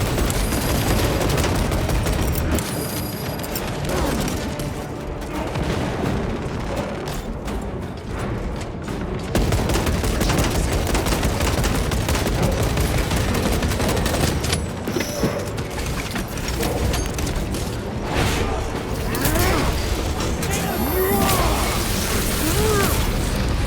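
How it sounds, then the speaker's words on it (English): Frag grenade blast and heavy gunfire in the Warhammer 40,000 video game Space Marine 2, dense loud bursts of shooting and booming impacts packed together, continuous combat noise with brief dips. "Deploying frag grenade."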